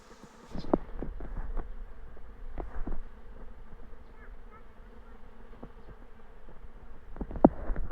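A swarm of honeybees buzzing around a tree, a steady low drone that slowly builds, with a few scattered knocks and clicks near the start and a couple of close thumps toward the end.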